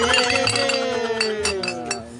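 Drinking glasses clink together in a toast, several bright ringing chimes and taps over a couple of seconds, loud and close, amid background voices and chatter.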